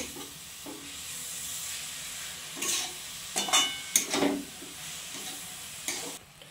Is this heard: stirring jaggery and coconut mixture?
yes